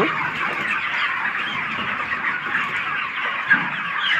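Chickens crowded on a rooftop poultry farm fill the air with constant overlapping clucks and murmurs, a steady, moderately loud flock sound with one slightly sharper call near the end.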